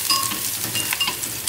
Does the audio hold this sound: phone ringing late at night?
no